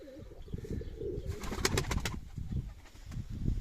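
A female pigeon with a leg band coos in a coop, a couple of soft coos near the start over steady low rumbling and handling noise, with brief chirpy bursts in the middle.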